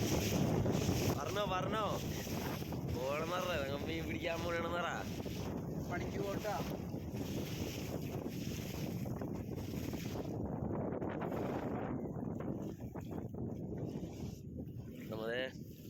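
A wooden fishing boat off the Thrissur coast is pushed along with an oar during a big sardine haul: steady wind buffeting and water wash run throughout, with people talking nearby over it.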